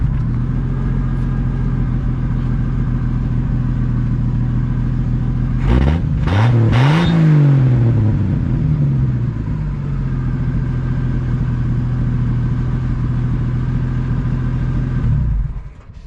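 A 1963 Chevy II Nova engine idles with a steady low rumble, then rises in a couple of quick revs before settling back to idle. It is loud and close, with no talking.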